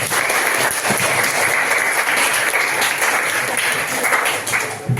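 Children clap together in a classroom at the end of a lesson, a dense, continuous burst of applause that lasts several seconds and tapers off near the end.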